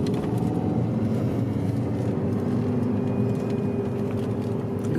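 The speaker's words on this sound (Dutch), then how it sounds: "Je hoort je motor ook echt, hè?" A car engine labours steadily on a snowy uphill mountain drive, a loud constant drone with road rumble heard from inside the cabin, no talking.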